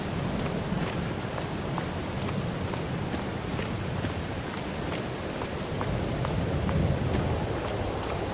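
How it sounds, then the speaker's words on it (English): Rain falls in Farming Simulator 22 as a continuous, dense patter with scattered sharper drop hits, steady and fairly loud throughout, with no talk. "Oh, it's good rain."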